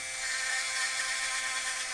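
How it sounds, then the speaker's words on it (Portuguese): A rotary micro tool sands with a continuous high whir, close and steady for the full two seconds, with no pauses. "Só uma lixadinha aqui bonitinha."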